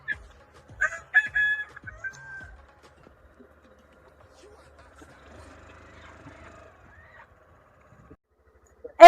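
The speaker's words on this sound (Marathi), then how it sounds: "2 कोंबड्या आहेत बघा" Chickens and a rooster, with a burst of clucking and squawking near the start, then near silence with faint rustling and a soft thump at the end.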